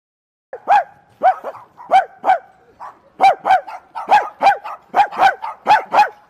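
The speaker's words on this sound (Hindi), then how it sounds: "तेरा कुत्ता मुझे काट रहे" A Minecraft dog, the game's tamed wolf, yips and barks in a steady series of about fifteen sharp, loud synthetic barks, evenly spaced and close, with no talking over them.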